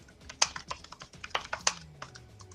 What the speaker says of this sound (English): That's you typing.